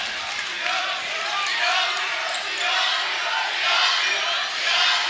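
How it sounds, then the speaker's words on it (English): Basketball crowd at a Trinity versus Emporia game roaring loudly and continuously in a gym, a dense sustained wall of cheering and yelling with swells late in the moment, an announcer's voice partly under it. "Emporia crowd trying to get as loud as they can."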